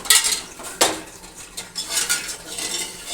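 A spoon stirs salt and sugar water around a cooking pot while dahi vada is being made, with several sharp metallic scrapes and clinks in an uneven rhythm, close by, and no talking.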